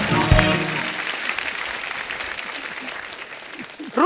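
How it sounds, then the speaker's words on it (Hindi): A studio audience at a comedy talk show bursts into loud, sustained clapping that holds steady for several seconds, with a brief voice at the start and another breaking in at the end. "जोरदार तालियां हो जाएं।"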